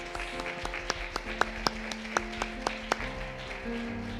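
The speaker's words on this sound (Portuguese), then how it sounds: "Dá uma salva de palmas ao Senhor." In a church, a congregation claps in a rhythmic series of distinct sharp claps about every quarter second, moderately loud over a low hum and faint background sound, fading toward the end.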